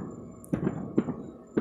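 Firecrackers pop outside at night on a September evening, three sharp reports spaced unevenly, fairly close and loud against a quiet background.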